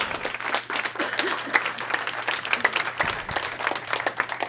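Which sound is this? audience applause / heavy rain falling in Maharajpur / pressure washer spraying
audience applause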